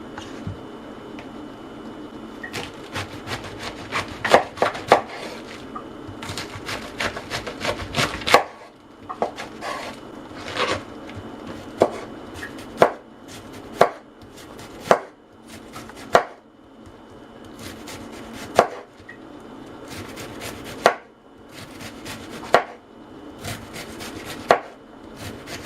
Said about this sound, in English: The best way to cut cabbage is to put it flat side down.